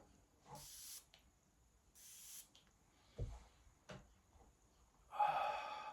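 A plastic-bodied Arabiyat Prestige Marwa perfume bottle's atomizer gives two short, crisp hissing sprays close to the microphone in a quiet room, followed by faint handling clicks and another brief hiss near the end.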